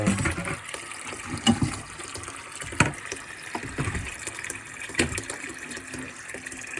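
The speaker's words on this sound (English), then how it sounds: "I'm just gonna pour the vinegar on in there." Vinegar splashing and trickling into a container while making pine needle tea, with a few louder glugs and clinks over a steady watery hiss.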